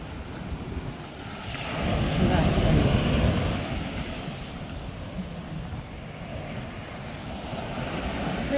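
Ocean waves wash onto a quiet white sand beach near a cliff, a continuous rolling surf that swells and recedes, mixed with gusty wind buffeting the microphone.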